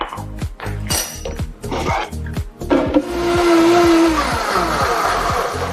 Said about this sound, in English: So I'm gonna blend this up